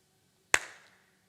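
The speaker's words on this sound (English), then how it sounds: "If I clap my hands, point to where that sound came from." A single sharp hand clap in a quiet room, close and crisp with a short fading ring after it.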